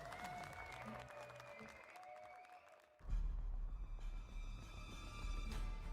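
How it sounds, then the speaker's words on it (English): Applause breaks out after a few quiet seconds, a dense burst of clapping from a crowd that swells and keeps going to the end. "I want to just give a big round of applause"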